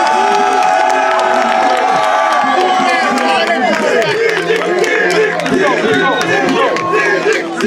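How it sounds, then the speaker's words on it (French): A crowd at a fight event cheers, shouts and claps loudly and without a break, many voices overlapping in a busy, close roar that holds its level to the end. "Applaudissez un peu."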